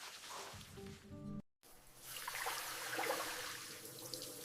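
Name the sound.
shower water running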